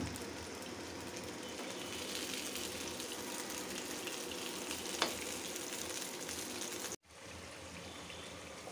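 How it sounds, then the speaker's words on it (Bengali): Eggs frying in a pan at home, a steady close crackling sizzle with a single sharp tick partway through, then a brief cut to a quieter, continuing sizzle. "ডিমগুলি ভাজতেছি"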